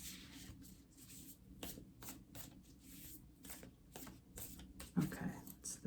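Oracle cards being shuffled by hand, a steady run of soft papery riffles and rubs, close and quiet, with faint talk at moments.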